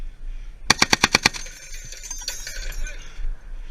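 A .50 caliber machine gun fires a rapid burst of about seven loud, evenly spaced shots during a live-fire exercise, followed by ringing echo and background field noise.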